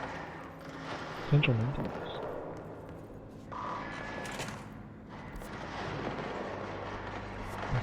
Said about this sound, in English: Hearing shots. Hearing shots.